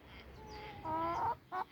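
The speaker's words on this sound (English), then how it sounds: "And the chickens milling around" Chickens milling around a backyard in the late afternoon cluck softly nearby, a few short tonal calls rising over quiet outdoor background noise.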